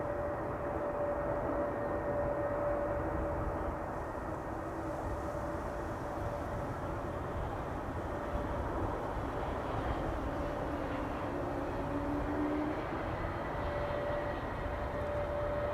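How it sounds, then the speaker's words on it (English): Landing roar of a Bombardier Challenger 350 business jet at Amsterdam Schiphol with thrust reversers deployed, a loud, sustained broadband rumble of engines that holds steady throughout with no voices. "Those reversers on BizJet engines, I always love that system."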